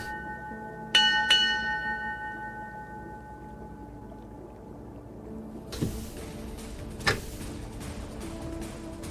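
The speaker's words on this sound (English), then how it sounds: "And I will cast Thaumaturgy to sound the warning bell." A ship's warning bell rings out with two sharp, ringing strikes close together that decay slowly, followed later by a few fainter metallic clanks and knocks over a low background hum.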